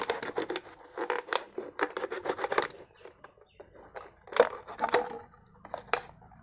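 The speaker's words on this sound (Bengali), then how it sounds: "মিডিল বরাবর একটা ধারালো ছুরি দিয়ে জাস্ট কেটে নেবেন" A sharp knife sawing through the middle of a plastic mustard oil bottle: rapid, rhythmic crunching and scraping bursts, close up, a steady run of strokes followed by a pause and a few more cuts, with no talking.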